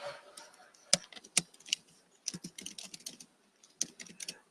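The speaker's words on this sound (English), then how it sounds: "See, typing while I'm talking." Quick, uneven clatter of typing on a computer keyboard, sharp key taps in bursts with short pauses, close and fairly quiet, no voices.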